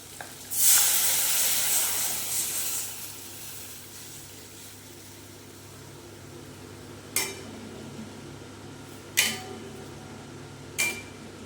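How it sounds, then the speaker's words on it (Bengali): Milk poured into a pan of frying hilsa fish gives a brief loud hiss and sizzle that fades into a quieter steady simmer, with a few sharp clinks of a utensil against the pan later on. "এবার দুধটা দিয়ে ভালো করে ফুটবে।"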